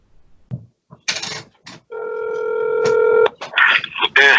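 Telephone keypad tones beep in a quick sequence of dialed digits followed by a long steady tone, with people talking briefly before and after.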